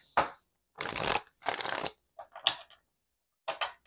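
Tarot cards being shuffled by hand in several separate bursts of riffling and sliding, close and fairly loud, with short gaps of silence between.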